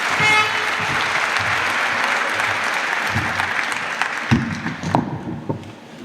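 An audience at an outdoor ceremony for a sheep support program in Honaz gives sustained, dense applause to welcome the mayor on stage, steady throughout and thinning toward the end, with a few louder claps and murmurs.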